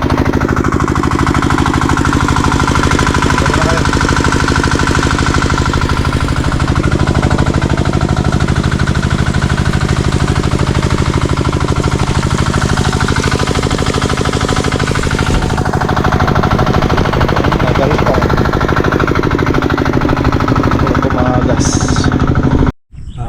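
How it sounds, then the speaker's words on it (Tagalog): A farm water pump engine runs steadily near at hand for over twenty seconds, a loud continuous mechanical drone with a knocking rhythm, cutting out abruptly at the very end. "Andar ko ulit yung makina."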